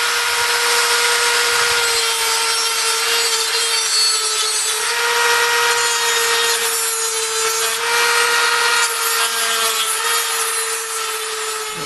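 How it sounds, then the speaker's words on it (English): A Dremel rotary tool cuts the corner off a joystick plate for a DIY arcade game controller, a loud continuous high whine with gritty grinding that varies slightly as it bites. "I'm going to try to cut this corner off of the joystick plate"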